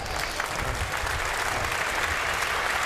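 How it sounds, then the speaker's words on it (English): Crowd applause fills the stands at a League Two football match between Plymouth Argyle and Cheltenham Town, a steady, even wash of clapping heard from a distance with no break. "And the applause."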